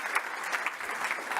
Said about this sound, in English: Tomas, round of applause